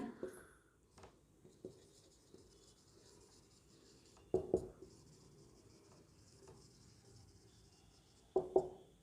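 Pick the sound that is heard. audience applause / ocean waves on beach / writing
writing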